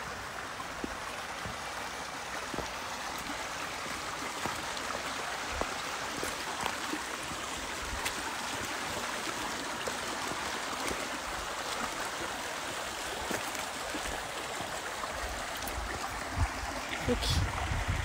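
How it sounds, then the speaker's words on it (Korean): Water burbling steadily along a small creek outdoors, a continuous soft broadband rush that stays fairly faint and even throughout, with no clear talk over it. "물소리 좀 들으세요."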